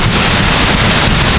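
Steady heavy rain falls through the Amazon jungle canopy, a dense, continuous hiss and patter that stays loud and even throughout, with no voices.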